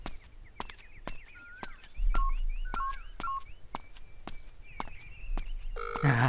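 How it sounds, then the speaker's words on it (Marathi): A telephone number is keyed in as a quick series of short electronic dialing beeps at uneven spacing, with light clicks and rustling in a quiet indoor scene. "जरा फोन लावून द्या बरं."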